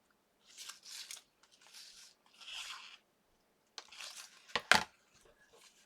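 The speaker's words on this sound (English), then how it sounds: "I think I'm just going to snip that the rest of the way so I don't cut that leaf off" Scissors snipping a Spellbinders Peekaboo Trellis paper die cut, with several short, crisp cuts in small clusters, close by and quiet, against a silent background.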